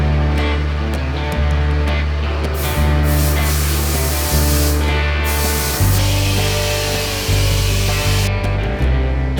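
A loud power saw cuts through a steel bolt salvaged for Panzer I replica tracks in a workshop, a steady grinding whine with periodic pitch drops as the blade bites, continuous for the whole stretch with no talk.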